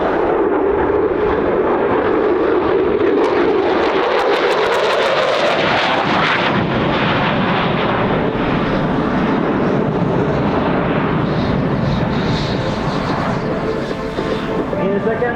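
A military jet rolling through an airshow display roars loudly and continuously, its engine noise sweeping and shifting in pitch as it passes, with a strong broadband rush that stays near and steady throughout.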